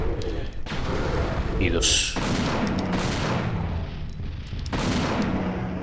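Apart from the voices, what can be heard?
gunshots from the video game Dino Crisis 2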